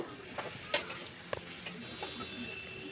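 Spices with cumin powder sizzle and crackle in a hot pan while a spoon scrapes and stirs, giving a few sharp clinks over the frying.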